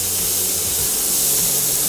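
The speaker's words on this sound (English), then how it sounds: "Add your pancake batter to the centre of the pan." Vegan pancake batter poured into an oiled pan gives a loud, continuous, close hiss of sizzling, steady throughout the short stretch.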